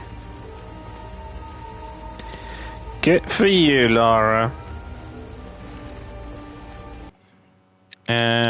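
Steady rain patters throughout a Tomb Raider Remastered game scene, a soft continuous hiss beneath a spoken line and brief musical tones, before cutting out near the end.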